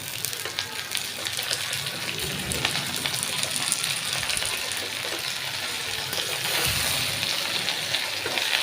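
Bottle gourd greens (lau shak) hit hot chilli paste in a pan, giving a steady, close hiss and sizzle that carries on evenly throughout.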